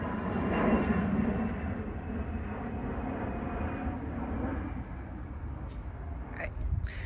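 A propeller plane drones overhead outdoors in a vegetable garden, a steady broad rumble throughout that stays fairly loud and even, with faint rustling and brief knocks near the end.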